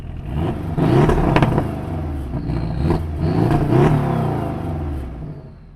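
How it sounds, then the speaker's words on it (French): Porsche 718 Boxster S with its active exhaust valves open, revving in loud repeated bursts that rise and fall over several seconds, with no talk. "en mode sport ou alors en appuyant sur le bouton dédié à cet effet, eh bien, les valves s'ouvrent et vous avez d'autant plus de bruit"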